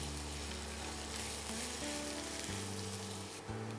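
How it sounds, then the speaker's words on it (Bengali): Chicken pieces browning in a pan for a Bengali mustard chicken curry with raw mango, a steady dense sizzle and crackle with low clatter, close and continuous without talk. "একটু ব্রাউন করেই ভাজতে হবে"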